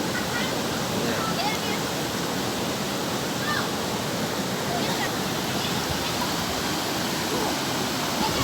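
Water rushes in a steady, loud, unbroken roar, like a waterfall or fast stream close by, holding at one level from start to end.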